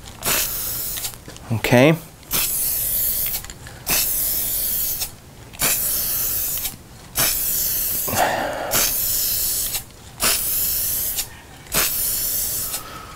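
Spray paint hissing onto an Atari Cloak & Dagger arcade cabinet during restoration, in long steady bursts with short gaps between, close and loud, with brief talk in between.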